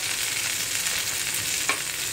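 Crisp eggplant slices fry in a pan with a steady, close hiss of hot oil, broken once by a brief spatter; nobody speaks.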